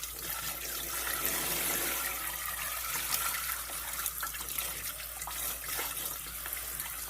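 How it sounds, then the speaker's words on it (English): Running tap water rinses pieces of eye of round beef in a kitchen sink, a steady close hiss and splash that continues throughout without a break. "We're just going to rinse these out really well."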